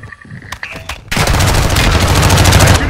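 Rapid automatic gunfire from a Call of Duty Warzone 2.0 match on Ashika Island, preceded by a few scattered shots, then a loud, sustained burst of dense firing that runs to the end.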